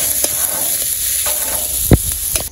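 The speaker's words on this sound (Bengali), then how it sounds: "এই জায়গায় আবার পেঁয়াজ ভাজতে আছে।" Onions fry in a pan in a village kitchen, a steady sizzle with scraping stirs and one sharp clank near the end, close and fairly loud, no talk.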